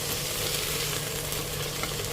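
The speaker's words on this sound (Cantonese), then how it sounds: "需要落少少油，跟住再落埋啲番茄，番茄都係切粒粒啦。 咁我哋繼續炒住香先。" Diced tomatoes stir-frying in a little oil for a tomato and onion soup, a steady close sizzle and hiss that carries on without a break, with no voices.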